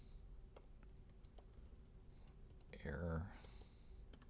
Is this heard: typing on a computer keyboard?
yes